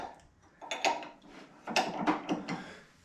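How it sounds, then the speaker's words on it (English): A boring head is fitted into the spindle of a Moore jig boring machine and tightened, with a few close metallic clunks and scraping clicks in two short bursts. "So we'll get the boring head in here. And want to be sure it's tight."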